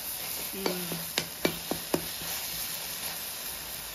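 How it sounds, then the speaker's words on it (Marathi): Shevla, a monsoon wild vegetable, fries in oil over a wood fire with a steady, soft sizzling hiss broken by several sharp pops and clicks near the start. "तेलात आधी फ्राय करून घ्यायची आणि त्याच्यानंतर त्याची भाजी बनवायची आहे"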